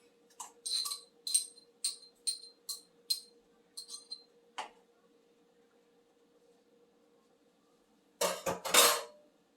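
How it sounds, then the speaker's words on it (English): Minced garlic goes into a pot of simmering chicken broth, marked by a quiet run of sharp metallic clinks and taps of a utensil against the pot over a low hum, then a brief louder scrape. "So we'll put in the minced garlic."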